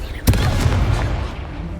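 The Confringo explosive spell in Hogwarts Legacy, a sharp booming burst followed by a rumbling roll of smaller pops that fades over a second or so.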